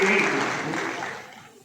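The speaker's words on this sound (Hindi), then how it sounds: "एक बार जोरदार ताली होना चाहिए" Audience applause and cheering in a hall at a seminar for LIC insurance agents, loud and dense at first, then fading over under two seconds, with voices mixed in.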